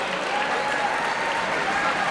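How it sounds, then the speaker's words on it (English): Steady applause from a crowd at a cage fighting event honours both fighters, a dense, even clatter of clapping for a couple of seconds with no talk over it. "a big round of applause, please, for both of the fighters in this cage"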